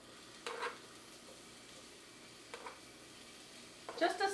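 Sliced bell peppers frying in olive oil in a pan over medium-high heat: a faint, low hiss with a few short sizzling bursts as they are moved around.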